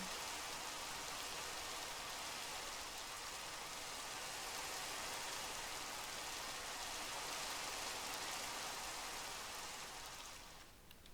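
Steady rain from the video game Minecraft, a dense even hiss of falling drops that holds for about ten seconds before fading slightly at the end, with no voices.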